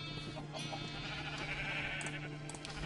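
Sheep bleating in the game Minecraft, a few short bleats standing out faintly over a steady background hum, with no talking.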